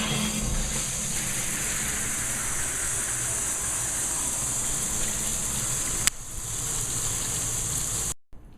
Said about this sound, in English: We're going to turn on the water and see how everything works.